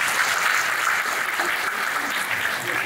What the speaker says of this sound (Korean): 박수 한 번만 또